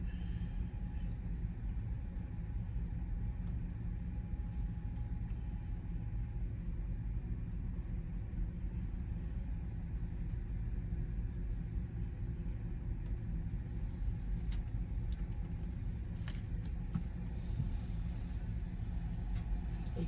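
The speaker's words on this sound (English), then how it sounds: "I see this truck going up in the air that's dumping shavings" A truck with its trailer raised dumps a load of wood shavings, giving a steady, loud low engine rumble that holds for the whole stretch, with a few faint higher clatters near the end.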